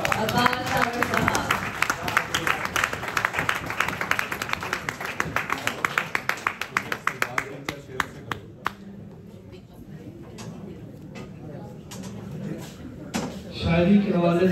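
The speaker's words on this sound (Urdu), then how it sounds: "بہت بھرپور تالیوں میں ہم ان کو بلاتے ہیں" An audience at a Chicago mushaira applauds to welcome the poet Abbas Tabish, sustained clapping from a crowd that thins into scattered claps and then fades, with some voices underneath.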